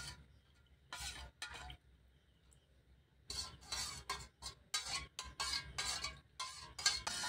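Fruit pieces, orange with a sprinkle of black salt, being mixed in a bowl, giving repeated close scraping and clinking bursts, sparse at first and then quick and steady, with no voices.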